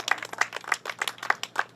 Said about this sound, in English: Y'all can clap anytime here.